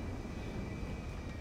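In GTA 5, an airplane engine drones in a steady, loud, dense roar with a constant high whine running through it, with no voices.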